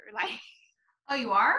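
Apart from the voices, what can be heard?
sneeze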